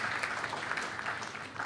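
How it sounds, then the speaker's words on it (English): Audience applause at a summit session honoring gold medal winners: a dense, steady wash of many hands clapping throughout, fairly loud and close, with no clear speech over it. "A big round of applause for them once again."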